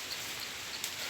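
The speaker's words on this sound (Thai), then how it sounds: "ฝนก็ตกอยู่นี่" Steady rain pattering on surfaces outdoors, a dense, even hiss that continues without a break and with no voices over it.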